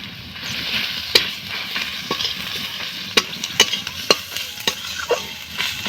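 Garlic paste and chili powder frying in a pan with vegetables, a close steady sizzle broken by repeated sharp spoon scrapes and taps as the mixture is stirred.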